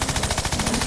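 Rapid gunfire in Worms: Revolution, a video game, as a weapon shoots through a wall, sounding as a steady fast stream of loud repeated shots that fills the whole moment with no talk.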